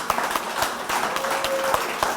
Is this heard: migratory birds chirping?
no